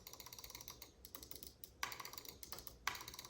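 A glossy white wired Glorious Model D computer mouse gives a quick series of quiet, close, hollow-sounding clicks, tapped in irregular bursts with no talking.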